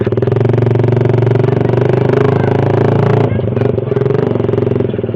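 A Suzuki Satria FU motorcycle fitted with an aftermarket DOS exhaust idles and revs close by, a loud, raspy, throbbing engine note that holds steady before dipping briefly near the end.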